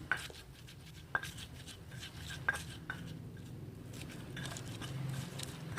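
Steady scraping and grinding of a stone pestle working a paste of curly red chilies and salt by hand, with occasional sharp knocks standing out at irregular intervals.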